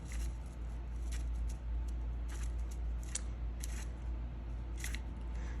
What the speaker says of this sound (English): Oh, I cut the bottom of the cupcake liner.